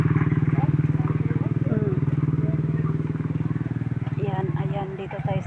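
A motorcycle engine idling and running nearby at a house construction site, a steady low pulsing rumble throughout, with people talking over it.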